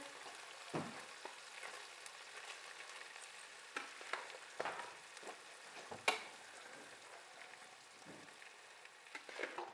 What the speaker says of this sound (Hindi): चावल जो बॉईल करके रखे हुए अब वो इसमें मिक्स करें।